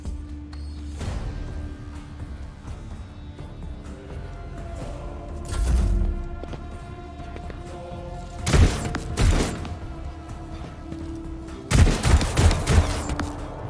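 Gunfire in the game Warhammer 40k: Rogue Trader, several bursts of loud cracking shots and thuds coming in clusters over a steady game music bed.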